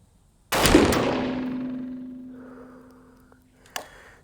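A single sharp rifle shot from a 350 Legend firing an experimental starting handload, with a long ringing decay, then a brief metallic ping a few seconds later.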